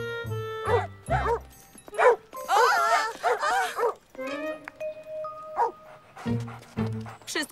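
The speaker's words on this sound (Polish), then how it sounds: "Ma pani aż dwa psy?" Two dogs in a park in a Polish-dubbed Caillou cartoon give short barks and yips with some whimpering, close and clear, with spoken dialogue in between.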